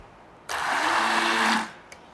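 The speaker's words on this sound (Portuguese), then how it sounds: "Eu estou usando um mixer de mão" A handheld immersion mixer purées carrots into a paste, a steady high whir running for about a second before cutting off cleanly, loud and close with no talk.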